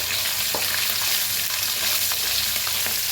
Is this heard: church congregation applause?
no